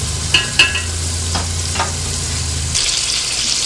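Collard greens and bacon frying in a pan while being stirred, with a close steady sizzle, a few sharp clanks of the utensil near the start, and a brighter hiss swelling at the end.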